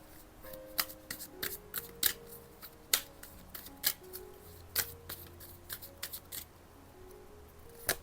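Tarot cards are shuffled by hand in a series of crisp, irregular snaps and riffles, close and fairly quiet, with soft tonal background hum between the bursts.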